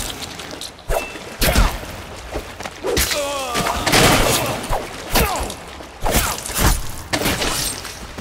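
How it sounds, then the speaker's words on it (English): Gunfire and impacts in the video game Dishonored: a string of sharp shots, thuds and crashing bursts at irregular intervals, loud and close over a busy game soundscape with some brief voice sounds. "Firing."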